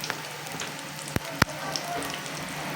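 Fish fingers deep frying in hot oil give a steady, soft sizzle and crackle, with two sharp pops standing out near the middle of the short stretch.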